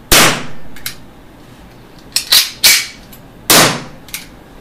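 A Makarov MP-654K Baikal air pistol fires: sharp, loud cracks come in an uneven series, about four main shots with a few quieter clicks between them, each snapping off quickly in a quiet room.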